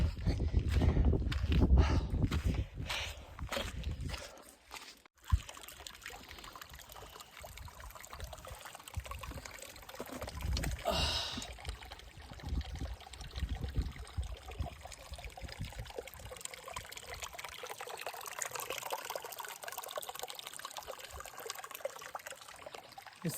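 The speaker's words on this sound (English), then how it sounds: "this is Siberian Pass Creek." Siberian Pass Creek, a mountain stream in the high Sierra, trickles and flows steadily at moderate distance, with a few louder knocks and footsteps near the start before the water carries on alone.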